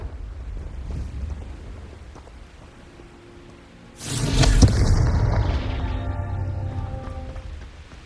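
A Confringo blasting spell in Hogwarts Legacy on PS5 erupts into one loud, booming explosion midway, its rumble and crackle lingering over a steady background hum.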